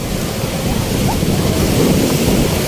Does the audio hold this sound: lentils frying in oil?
no